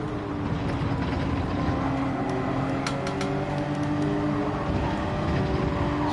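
A race car engine in Gran Turismo 7 hums and revs steadily throughout, a continuous mechanical drone with faint clicks over it and no talking.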